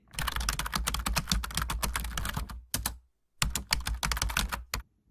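Rapid plastic key presses on a calculator keypad as numbers are entered, a close, crisp run of clicks in two quick bursts separated by a short pause.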